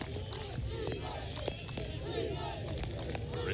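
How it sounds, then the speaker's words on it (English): Richmond fans cheer on their defense at a college lacrosse playoff game in Philadelphia, a steady roar of distant crowd noise and chatter with scattered louder shouts throughout. "Richmond crowd trying to will on the defense here at Philadelphia."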